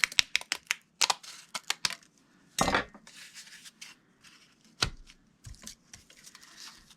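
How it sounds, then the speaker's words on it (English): Scissors cut paper for a tag book. A quick run of crisp snips and clicks comes close up, then a longer rustling cut, then scattered snips and paper handling. "So I'm going to cut it down there."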